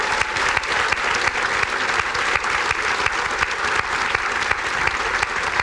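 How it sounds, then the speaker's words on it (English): Audience applause at a doctoral hooding and nursing pinning ceremony, a steady, dense clapping from a large crowd that stays loud and even throughout, with no voices rising above it. "So could we all give a big round of applause"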